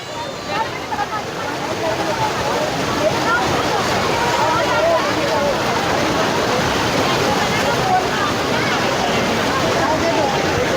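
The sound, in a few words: waves of the Ganga river current at Haridwar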